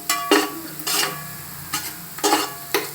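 Green chillies fry in a pan for mutton biryani, with sizzling under rhythmic, close scraping strokes of a spoon, about six bursts across three seconds.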